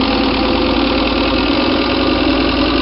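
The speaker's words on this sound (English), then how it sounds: "First, get your engine idle up" Truck engine in Rigs of Rods held at raised idle around 2,500 RPM, a steady loud mid-pitched drone with slight knocking vibration, no talk.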